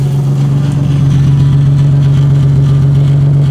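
A car engine idles loud and steady with a deep, droning exhaust hum heard close up, the exhaust hot enough to boil off water, holding an even tone throughout without talking.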